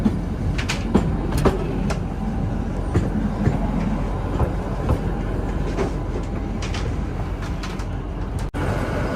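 Shivalik Deluxe Express pulling out of Shimla station in Himachal Pradesh, a steady rumble of rail wagons with faint clicks and clanks and a few bird chirps over the top, continuous and moderately close.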